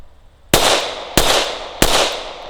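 Three sharp, loud handgun shots about half a second apart, each a hard crack followed by a ringing outdoor decay, no talking.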